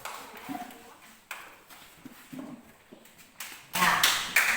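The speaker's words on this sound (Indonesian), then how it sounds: "tepuk tangan untuk kelompok" Children in a primary school classroom clapping for a group, faint rhythmic patter that starts sparse and builds into a louder, brisker burst of claps near the end.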